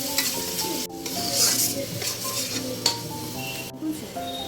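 Spinach paste and minced meat frying in a pan, stirred with a utensil: steady loud sizzle throughout, with scraping strokes and a couple of sharp clinks against the pan.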